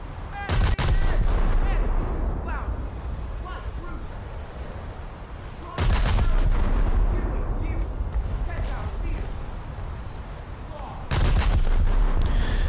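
Heavy naval gunfire aimed at an American heavy cruiser in a naval battle video game, with three loud booming salvos spaced about five seconds apart, each followed by a long rumbling roar of battle noise.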